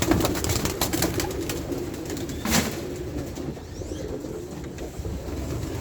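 Pigeons in an aviary coo in low, throaty murmurs over steady background noise, with a brief flutter of wings near the middle.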